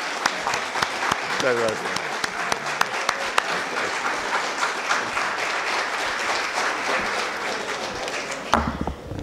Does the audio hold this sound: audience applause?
yes